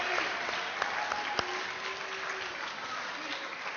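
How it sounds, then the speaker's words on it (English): An audience at a historical debate at a presidential library breaks into steady applause, with a few sharper claps standing out near the start before the clapping thins slightly toward the end. "Let's give General Washington a round of applause."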